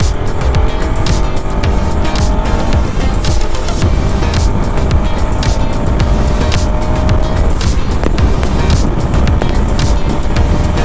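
Stock exhaust of a Pulsar RS 200 motorcycle, a loud, close, continuous engine drone with repeated throttle rises and gear changes during a ride, and no talking.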